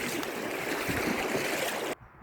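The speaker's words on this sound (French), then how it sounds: "Donc, voilà la rivière." A river flowing steadily in a rushing, broadband wash of water close by, loud and unbroken for about two seconds before cutting off abruptly; nobody speaks.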